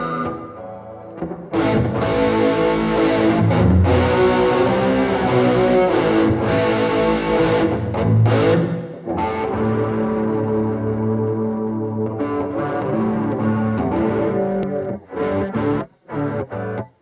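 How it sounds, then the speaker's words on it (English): An electric guitar played through a Golden Horse Overdrive pedal gives loud, gritty, saturated chords and riffs, sustained and dense for most of the stretch before choppy stops near the end, with no talking. "let's go with our Golden Horse Overdrive"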